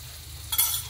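Egg and bitter gourd (ampalaya) sizzle in a frying pan as they are stirred together, a brief scrape and crackle over a steady low hiss.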